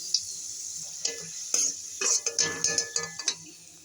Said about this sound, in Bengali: আমি আলুগুলোকে ভেজে নেব।